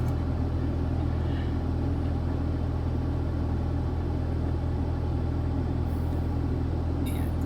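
Low, continuous rumble from a long dolly truck's engine reversing on a European street, deep and steady close by with faint brief sounds above it.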